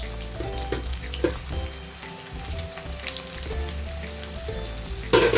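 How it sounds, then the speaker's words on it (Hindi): Chopped onions frying in oil for a browned chicken masala, a steady close sizzle with light stirring scrapes and a louder burst near the end, no talking. "ऑनियन को ब्राउन करके भूनना है अच्छी तरह।"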